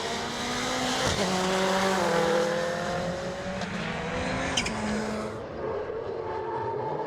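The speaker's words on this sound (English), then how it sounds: "Powering their way up towards the hairpin. Hit the brakes, turn through the right-hander." Rallycross race cars at Lydden Hill brake for a hairpin and turn through a right-hander. Engines whine loudly with shifting pitch, tyres squeal briefly, and the cars fade as they pull away.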